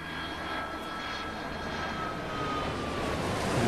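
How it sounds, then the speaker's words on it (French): A real airliner passes overhead outside a house, a steady broad engine roar with a faint whine that swells slightly as it nears. "Un avion qui vient de passer juste au-dessus de chez nous."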